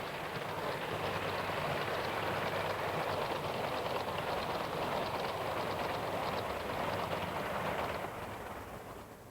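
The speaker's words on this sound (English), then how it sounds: "This through coal train is hauled by a Great Western 7200 Class 2A2." A model railway coal train hauled by a Great Western 7200 Class locomotive runs along the track, giving a steady, dense rushing rumble that holds level for most of the clip and eases slightly near the end.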